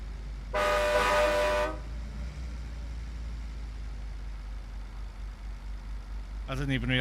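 One loud, sustained train horn blast from a RAM 3500 pickup in American Truck Simulator sounds for about a second over a low hum, then a brief voice speaks near the end.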